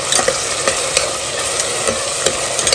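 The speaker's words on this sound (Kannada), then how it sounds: "ಇವಾಗ ಚಿಕ್ಕದಾಗಿ ಕಟ್ ಮಾಡಿಟ್ಕೊಂಡಂಥ 2 ಈರುಳ್ಳಿಯನ್ನು ಸೇರಿಸ್ಕೊಳ್ಳೋಣ" Two small chopped onions frying in ghee and oil, a loud close sizzle with rapid rhythmic spoon strokes stirring them around the pan, steady throughout with no voices.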